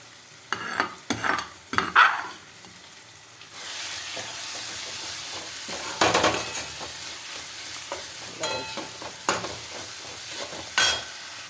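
Paneer bhurji roasting in a pan, cooked the traditional way, with steady frying sizzle and repeated scraping stirs from a spoon, some strokes sharper and louder than others, close up and with no talking.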